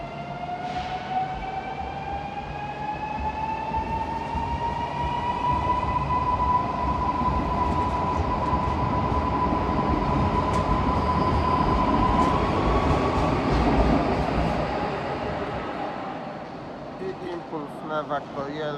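An Impuls regional electric train of Koleje Dolnośląskie at Wrocław Główny station gives a rising motor whine that holds as a steady tone over a deep rolling hum, then fades as the train moves off, with station clatter at the end.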